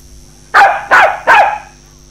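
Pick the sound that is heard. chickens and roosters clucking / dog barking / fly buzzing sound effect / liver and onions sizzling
dog barking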